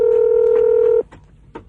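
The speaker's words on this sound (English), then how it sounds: "I think I dialed the wrong number" A telephone keypad tone from a phone call: one loud, clean beep held for about a second that cuts off sharply, followed by a few faint clicks.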